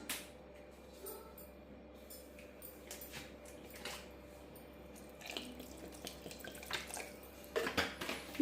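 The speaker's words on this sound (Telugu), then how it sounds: "ఇప్పుడు కొంచెం వాటర్ పోసుకుంటున్నాను దీంట్లో" Water being poured into freshly ground coriander chutney, a soft, steady trickle and splash close by with faint clinks from the vessel, no voices.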